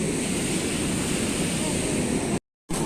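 Ocean waves wash up onto a beach in a loud, steady roar of surf and spray, broken by a brief cut to silence near the end.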